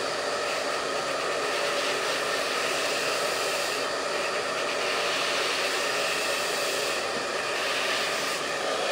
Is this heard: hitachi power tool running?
no